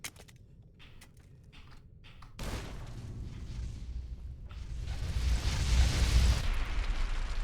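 A grenade goes off in Fallout: New Vegas with a sudden loud boom, followed by a sustained rumbling roar that builds and stays heavy to the end.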